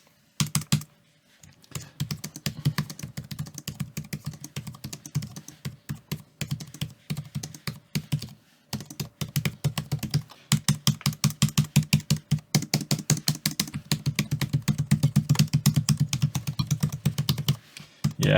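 Rapid, close clicking comes from typing on a Samsung Smart Keyboard Trio 500, an inexpensive keyboard with plasticky keys. The keystrokes run in steady bursts with a few brief pauses, and no one speaks.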